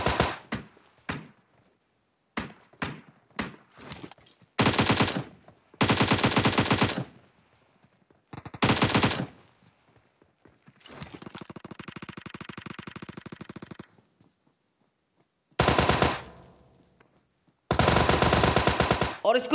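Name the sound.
gunfire in the video game PUBG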